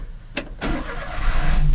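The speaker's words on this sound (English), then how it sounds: "turn on the engine" A Japanese mini truck fitted with a lift box, about 50,000 km on it, cranks briefly and then catches, settling into a steady close idle that grows slightly louder.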